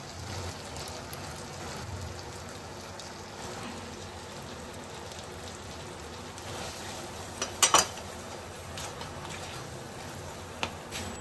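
Urad dal paste frying in spiced oil while making the filling for Bengali radhaballavi, a steady soft sizzle and crackle throughout with a few louder spatters and stirring clinks near the end, no talking.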